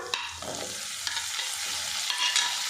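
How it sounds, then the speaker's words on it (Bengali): Capsicum fries in fried ginger-garlic paste while being stirred for an egg curry, a steady crackling sizzle punctuated by scraping stirs, close and fairly loud, with no talking. "আদা রসুনটা ভেজে নিয়েছি কাঁচা গন্ধটা চলে গেছে এবার এর মধ্যে দিয়ে দেবো ক্যাপসিকাম"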